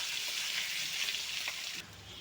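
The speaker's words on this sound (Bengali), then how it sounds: "আলুগুলো কিন্তু একটু লাল লাল করে ভেজে নেব" Potatoes browning in hot oil sizzle with a dense, continuous crackling hiss up close, easing slightly just before the end, with no voices.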